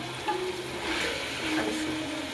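Tomatoes frying in a pan while cooking chicken biryani, giving a steady, moderately quiet sizzle with faint stirring scrapes and no talking.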